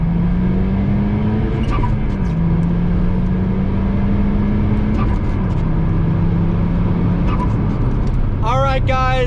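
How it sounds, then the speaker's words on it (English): A Volkswagen Golf R MK6 pulls hard in fifth gear, its engine droning loud and steady at a slowly rising pitch, close up from inside the car, with a brief chime or beep near the end. "with that fat 5th gear pull all the way up to 25 miles per hour"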